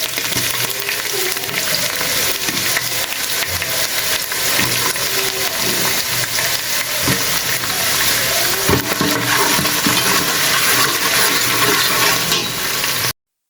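Chopped onions sizzle loudly in hot oil in a home kitchen, a dense, steady frying crackle close by that runs unbroken for about thirteen seconds, then cuts off abruptly.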